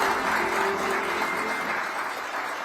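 Steady, dense audience applause fills a hall at an economic forum for presidential candidate Lee Jae-myung, evenly sustained and close without a break.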